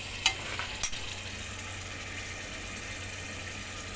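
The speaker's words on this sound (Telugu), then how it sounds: "ఆయిల్ కాగిన తర్వాత అన్నీ ఆయిల్లో కలిపి వేసుకోవాలి" Ingredients stirred into hot oil in a pan give a steady low sizzle, quiet and close, with a couple of brief clinks of a utensil near the start.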